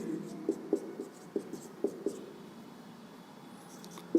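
Pen or chalk writing on a board during a Hindi lecture on Skinner's operant conditioning theory; a series of short, distinct strokes and taps at close range, mostly in the first half, with no talk over them.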